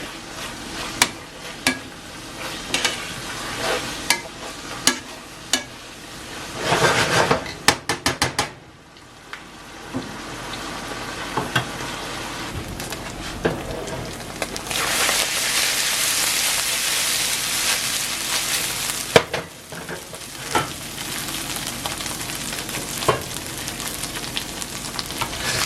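Taco meat sizzles and fries steadily in a pan, a continuous close crackle that swells louder in the second half, broken by a few sharp clinks of a utensil against the cookware.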